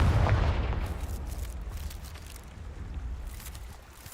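A Confringo blasting curse explodes in the video game Hogwarts Legacy: a heavy boom opens, then a rumbling, crackling tail trails away over a few seconds.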